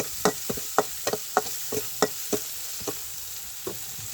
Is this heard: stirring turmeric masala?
yes